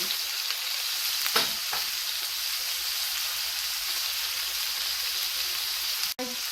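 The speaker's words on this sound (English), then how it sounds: "I took some fat off of the ribeye and I coated the cast iron pan" A ribeye steak sizzles and fries steadily in a cast iron pan coated with its own fat, a constant close hiss with a couple of brief clicks and scrapes, no voices.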